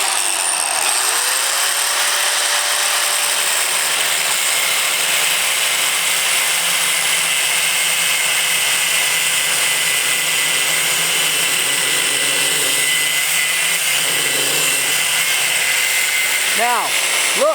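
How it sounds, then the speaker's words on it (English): Angle grinder without a guard cutting a line: a loud, continuous high-pitched whine holds steady for the whole stretch, with pitch briefly shifting near the end, heard up close. "we're gonna draw a line right here with the grinder"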